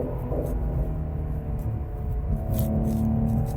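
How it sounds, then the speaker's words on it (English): A race car engine rumbles and hums nearby, its pitch shifting as it changes gear, steady and fairly loud. "The downshift sounds really good too."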